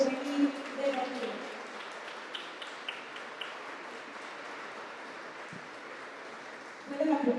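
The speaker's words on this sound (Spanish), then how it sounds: "Despidamos con un caluroso aplauso a la escolta y banda de guerra Rescate Juvenil Deportivo." An indoor audience applauding a school escort and marching band, steady broad clapping held at moderate level for several seconds, with a voice speaking over it at the start and end.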